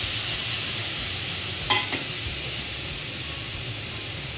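Prawns hit a hot, dry kadai and give off a steady, close sizzling hiss, with a brief metallic clatter of stirring midway and no talking.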